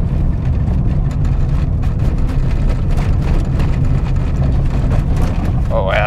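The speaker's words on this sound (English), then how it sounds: "Oh yeah, that's really rattly." Rattling from a Fiat Punto HGT while driving on suburban roads, blended into steady low engine and road rumble with continuous interior noise throughout.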